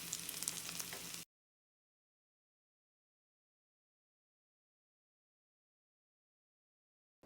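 Dandelion fritters frying in hot oil give a loud, close, steady sizzle for about a second before the sound cuts to silence.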